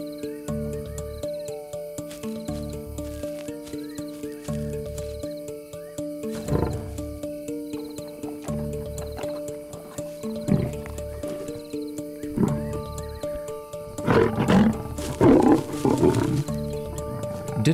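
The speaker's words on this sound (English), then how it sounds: "Dinner time in a lion family can be a noisy affair." Young lions feed noisily at night in the African wild, growling, snarling and roaring over a meal against a steady hum of crickets, growing louder and more chaotic toward the end.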